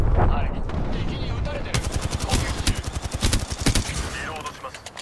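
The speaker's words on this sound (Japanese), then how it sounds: "敵に撃たれてる" Rapid bursts of automatic gunfire from enemies in the battle game Apex Legends crackle close and loud for a few seconds, dense volleys stacking over one another with a game voice briefly speaking over the start.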